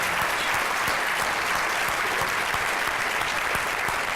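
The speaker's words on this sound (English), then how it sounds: "Let's give him another round of applause." Dinner audience at a presidential dinner series event in Fort Worth gives a sustained round of applause, dense, loud and continuous clapping from a large crowd.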